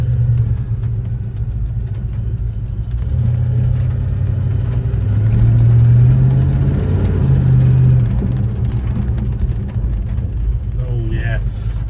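1968 Chevy El Camino being driven with its engine running, a steady mid-range rumble that swells slightly as it accelerates, with a voice speaking over it.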